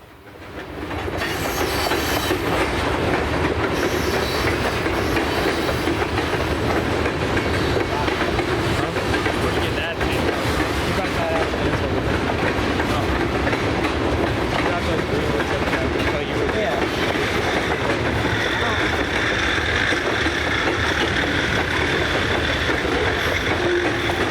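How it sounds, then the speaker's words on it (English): An Ohio Central train hauled by B23-7R diesel locomotives rumbles steadily past at close range over an arched bridge, a dense continuous roar with rhythmic wheel clatter that holds for over twenty seconds. "Here the train crosses over an archway bridge"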